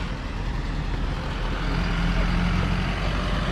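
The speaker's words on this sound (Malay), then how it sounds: "So kereta dari sana lagi lalu." A vehicle crossing the Tamparuli bridge, a steady low engine rumble and road noise that stays close and continuous, rising slightly toward the end.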